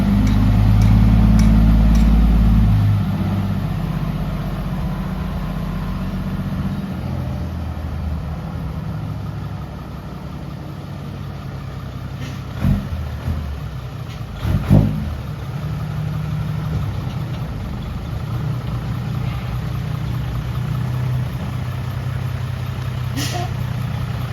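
Isuzu Deca FRR 195 hp six-wheel dump truck idling steadily with a low, continuous engine rumble, louder at first then settling, with a couple of brief knocks partway through.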